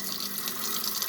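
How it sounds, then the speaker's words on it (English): Steady rush of water pouring from a kitchen sink tap during a move-in walkthrough of a rental house interior, close, continuous and alone without talk. "Hot water works, sink works, garbage disposal works."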